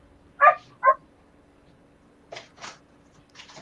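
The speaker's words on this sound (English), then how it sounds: "With a dog in the background." A dog barks twice in quick succession in the background, then after a pause gives a few fainter, rougher yips, all faint and distant over a quiet room hum.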